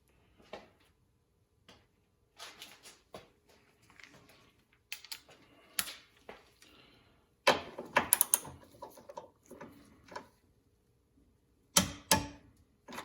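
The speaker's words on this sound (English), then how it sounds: "Now, I got my torque wrench set at 20 foot-pounds." A torque wrench set to 20 foot-pounds tightens a bolt in a quiet space, with scattered faint clicks followed by louder bursts of close ratcheting and a few sharp snaps.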